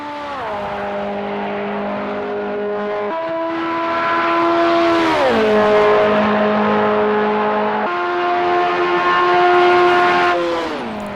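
R89C race car engine in the Project Cars 2 video game, a loud sustained harmonic drone that climbs and drops with each gear shift, with no talk.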